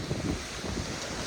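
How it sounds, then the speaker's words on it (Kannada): Big waves rolling at a river shore under strong wind, a loud continuous rushing wash with heavy wind buffeting on the microphone and no talking. "ಅಲೆಗಳು ಫುಲ್ ಜೋರ್ ಅದಾವ, ದೊಡ್ಡ ಅದಾವ."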